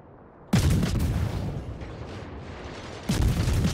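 Heavy naval gunfire from warships in World of Warships, two booming salvos with sharp onsets, each followed by a long rumbling decay, loud and close with no talking.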